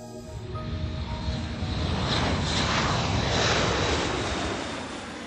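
A Dassault Falcon 7X business jet taking off during flight testing at Istres, a loud, broad engine roar that swells steadily and then begins to fade, heard alone without talk.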